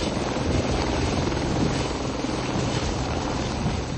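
A military troop-carrying helicopter flies close by, its rotor and engine making a loud, steady, dense roar that fills the whole stretch without pause.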